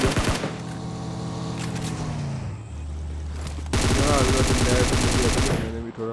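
Loud automatic weapon fire in the PUBG Mobile video game, rapid bursts that stop for a reload and then resume, with a low droning vehicle or engine sound in the background.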